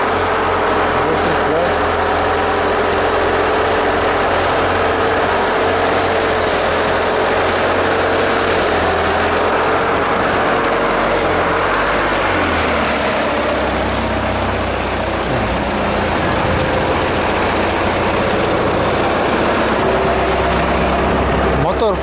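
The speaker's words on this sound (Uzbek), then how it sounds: "Mashinamiz yurdi, ovozlarni ham eshitib turibsizlar" A GAZ 53 dump truck engine runs loud and close with a steady, rumbling drone throughout while people talk over it.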